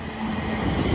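A London Northwestern Railway train rumbles loudly and continuously at Watford Junction on the West Coast Main Line, close by, with a steady rolling roar and a faint wheel tone.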